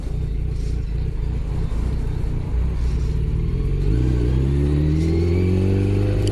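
A motorcycle engine rumbles steadily and loud, then revs up with rising pitch as it accelerates, with traffic noise around it.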